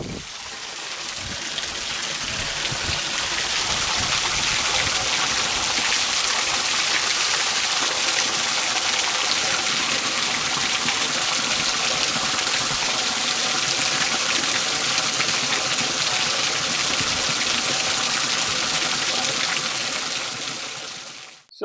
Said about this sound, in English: the sound of running water, falling water off of this hill